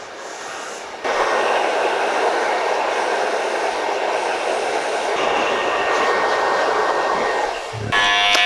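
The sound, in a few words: hair dryer drying hair with small round brush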